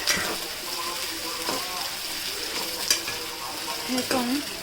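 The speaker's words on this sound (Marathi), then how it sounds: "आपण कांदा आता तेलामध्ये पूर्णपणे मिक्स करून घेणार आहोत" Finely chopped onions sizzle in hot oil as a spoon stirs them in a pan, with a steady crackling fry and occasional scraping clinks close by.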